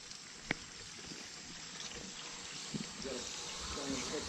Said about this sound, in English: Water's being sucked out there.